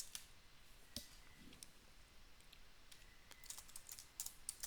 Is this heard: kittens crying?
no